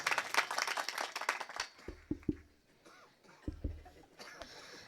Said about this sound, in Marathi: टाळी वाजवा, आनंद वाटला.